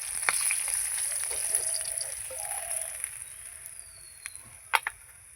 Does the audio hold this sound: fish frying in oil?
yes